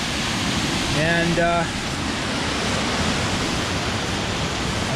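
A waterfall near Guadalupe, Colombia rushes in a steady, dense roar throughout, with a brief spoken word from a nearby voice heard over it.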